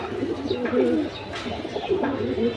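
Red-geared pigeons, a mated pair, coo in soft, repeated, throaty rolls, close and steady throughout.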